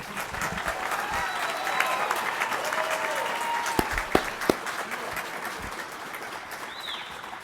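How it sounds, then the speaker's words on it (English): An audience at a graduation ceremony applauds graduates with sustained, even clapping, a few sharper near claps standing out midway, and faint bird chirps and whistles in the background. "It's okay to applaud if you like."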